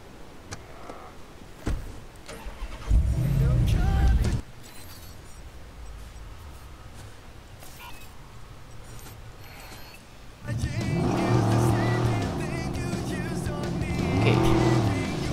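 Car in Watch Dogs: an engine revs up and drives off, with loud roaring bursts and a sustained drive later on, and a person talking over parts of it.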